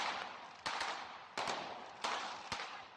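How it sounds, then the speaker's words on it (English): Fireworks launched over Pistoia, Italy, heard from a distance as four sharp, evenly spaced bangs, each trailing into a long hissing decay against quiet night air. "Moving closer to where the fireworks are being fired"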